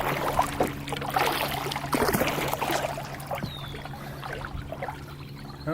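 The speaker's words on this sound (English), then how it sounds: "The boat must have went by. There's some waves coming in." Small waves from a passing boat's wake lap and trickle against a Pelican kayak on calm water at Long Sault, a steady close splashing and dribbling with no talk.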